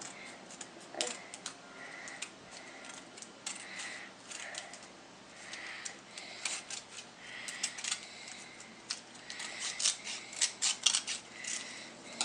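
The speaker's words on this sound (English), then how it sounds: "Trim it if there's any excess" Scissors trim paper strips for a handmade woven paper basket, a run of small crisp snips and rustles at close range, irregular and quiet, with no talking.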